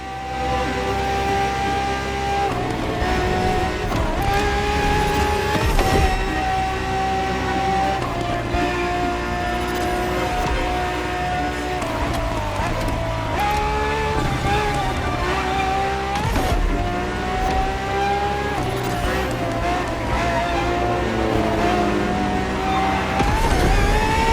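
Ferrari FXXK supercar in a racing video game, its engine droning continuously and climbing through shifting revs as it drives, loud and close with no talk over it.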